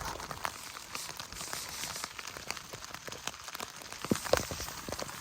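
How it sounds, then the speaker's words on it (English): Rain patters steadily on a surface nearby outdoors in Alaska, with scattered louder drops and taps standing out from the soft hiss. "Raining pretty good"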